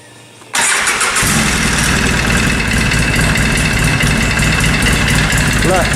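ATV engine cranking and catching after sitting idle, bursting to life abruptly and settling into a loud, steady close-up idle with a slightly knocking, rough texture.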